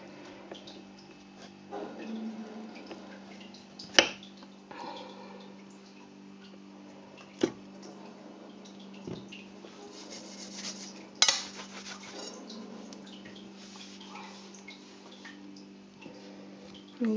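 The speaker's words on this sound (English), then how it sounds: "And then we cut those pieces into half." A knife cutting a Black Raspberry Alaska soap cake into slices, quiet scraping passes broken by a few sharp knocks of the blade against the board, close and sparse.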